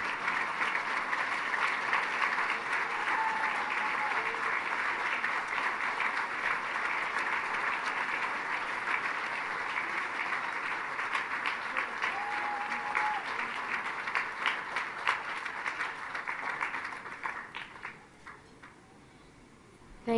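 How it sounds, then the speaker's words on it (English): A hall audience at the Global Action Forum 2011 gala gives Anne Archer steady sustained applause, dense clapping at an even level for about seventeen seconds before it quickly fades out. "Let's give Anne a big round of applause, please."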